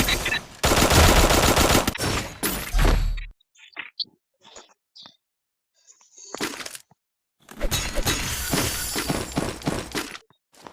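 Rapid bursts of XM8 rifle fire in the game Free Fire, loud close automatic volleys in two main stretches separated by a quieter gap with scattered single shots.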